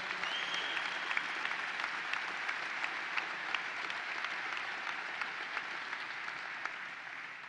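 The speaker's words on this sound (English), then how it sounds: "Ben Walsh, let's give him a big round of applause." A crowd applauds steadily at the opening of the New York State Fair, a dense sustained clatter of clapping that holds evenly throughout.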